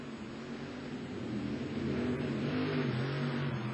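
Monster trucks at a 1990 TNT show in Bowling Green, Ohio, engines revving up and roaring off the start line, a steady rumbling drone that swells slightly louder, with no talking.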